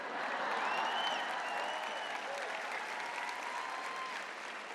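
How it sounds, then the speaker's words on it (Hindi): An audience claps steadily throughout a sermon gathering, a dense, continuous wash of applause from many hands that fades slightly toward the end. "मैं बढ़िया प्रचार करता हूँ, थोड़ा ताली तो बजाओ।"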